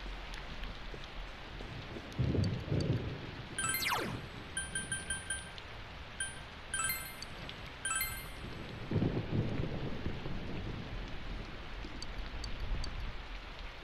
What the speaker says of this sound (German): während der strömende Regen und der Donner alle ablenkenden Geräusche übertonen